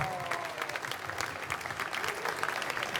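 Outdoor audience applause for a live wind band performing without singers in a town square, a steady wash of clapping and crowd noise with a few voices mixed in, fairly distant.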